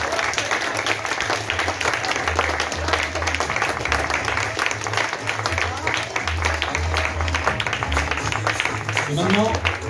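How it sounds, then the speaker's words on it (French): Spectators at a match clap steadily for ten seconds. The rapid, dense applause runs under talking, and a low humming drone comes and goes in the background. "vous pouvez les applaudir très très fort"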